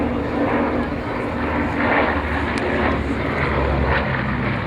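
A Fairchild-built Bolingbroke bomber flies over at RIAT, its piston engines producing a steady, broad drone that holds loud and continuous without a break, with no voices.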